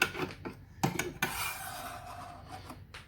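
A spoon stirs chickpea chorba frik inside a Thermomix bowl, making soft scraping and rubbing strokes with a few sharper clinks, quiet and close with no talk.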